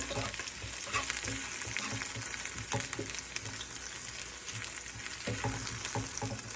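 Vegetables sauteing in a pan before ground beef goes in for a mashed cauliflower pie, a dense, even sizzle with light stirring scrapes, close and continuous throughout, no talking.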